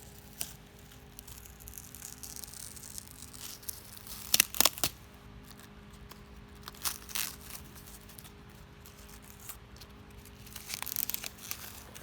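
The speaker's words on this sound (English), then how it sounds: "When you peel, you want to peel away." Masking tape is peeled away from a freshly painted Chevrolet Silverado sport valance, giving soft tearing and crinkling sounds with a couple of sharper rips, all quiet and close.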